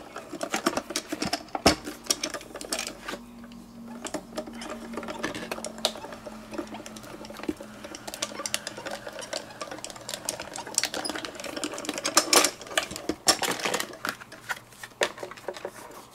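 Die cutting and embossing machine feeding craft foam through its rollers, a long stretch of close mechanical clicking and crunching with irregular rattles and a brief low hum, no speech.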